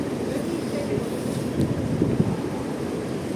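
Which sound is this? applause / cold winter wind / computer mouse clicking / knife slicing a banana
cold winter wind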